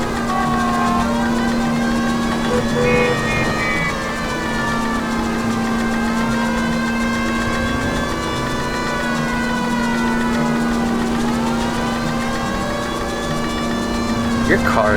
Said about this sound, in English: Your car is like fucking making the worst noise ever